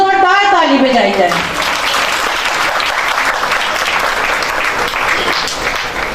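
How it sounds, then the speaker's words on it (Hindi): An audience at a church memorial service claps loudly and steadily in a dense, sustained burst of applause, following a woman's brief sung or spoken voice at the start. "इन सारे तोड़ों के लिए चाहती हूँ कि जोरदार ताली बजाई जाए।"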